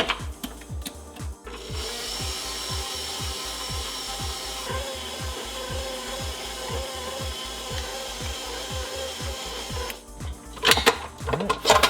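Sourdough bread dough churns in a stand mixer, giving a steady mechanical hum punctuated by regular rhythmic thumps roughly every half second, close and continuous, with louder knocks near the end.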